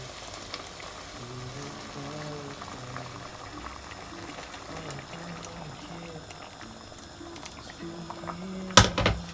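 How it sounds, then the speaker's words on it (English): Boiling water poured into a pot of carrot and tomato soup, giving a steady bubbling, gurgling wash at moderate level and ending in a brief sharp clatter near the close. "So now I'm just gonna add some water in it guys,"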